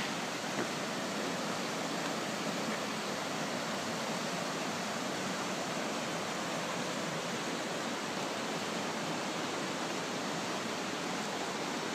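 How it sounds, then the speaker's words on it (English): The river at Kanmangafuchi Abyss in Nikko rushes in a steady, broad, unbroken roar of churning water, loud and close with no voices. "Give you a little bit more of the river."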